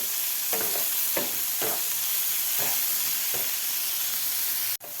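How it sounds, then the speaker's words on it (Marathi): Tomatoes sautéing with onions in a pan for anda bhurji: a steady sizzling hiss broken by several stirring scrapes at a slow, uneven rhythm, close and fairly quiet, ending with a sharp knock. "आता टोमॅटोसुद्धा आपल्याला कांद्याबरोबर व्यवस्थित परतून घ्यायचं आहे"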